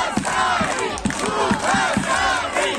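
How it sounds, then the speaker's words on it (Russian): Football fans in the stands at a friendly match in Dubasari roar and chant in a loud, rhythmic crowd chorus with repeated shouted bursts, filling the whole moment. "фанаты определяли, кто громче"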